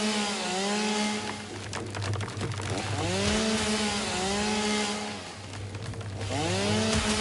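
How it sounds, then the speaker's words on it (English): A chainsaw in the video game Satisfactory cuts through trees, its engine whining up and down in repeated rising and falling revs over a continuous buzzing drone, with no talking. "Notice that when the chainsaw hits, it also cuts off the leaves that are close by."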